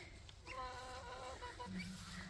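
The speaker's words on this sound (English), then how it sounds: "These guineas are funny." Guinea fowl giving a short burst of harsh, rattling calls over quiet farmyard background, faint and brief.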